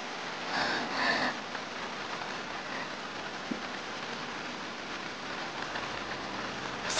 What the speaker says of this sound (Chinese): 你怎么在这淋雨啊？